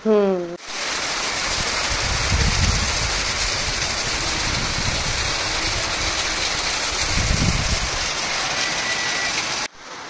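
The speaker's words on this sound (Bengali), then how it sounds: "আর এদিকে এখন ঝড় বৃষ্টি নেমে গেছে" Heavy rainstorm pouring outside, a steady loud broadband wash of rain that runs almost the whole clip, with low rumbling surges like wind gusts and a brief voice at the very start.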